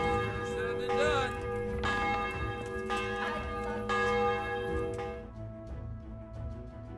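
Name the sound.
bell being rung in the video game Kingdom Come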